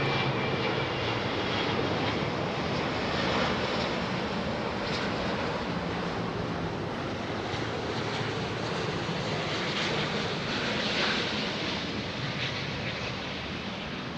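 An Airbus A380 jet airliner departing London Heathrow runway 27R roars steadily and loudly at close range, a broad continuous engine rumble and hiss with no talking.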